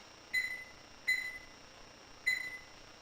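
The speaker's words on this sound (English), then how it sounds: "I'll set my timer for 20 minutes." A kitchen timer beeps three times, short bright electronic tones spaced about a second apart, faint and alone.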